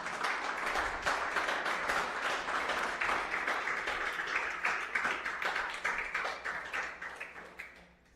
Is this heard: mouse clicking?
no